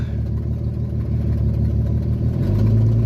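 A car engine idling with an exhaust leak, a loud, close, steady low rumble with a rhythmic puffing pulse, rising slightly in pitch toward the end, with no talking.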